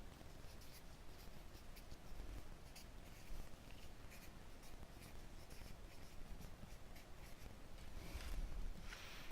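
Quiet, close scratchy strokes of a stylus or pen writing on a tab, irregular short scribbles with small pauses, faint and intimate with no talking.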